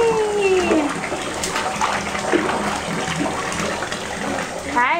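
A small child's nightly bath, water splashing and sloshing in a bathtub steadily throughout, with bright squeaky vocal sounds mixed over the watery wash.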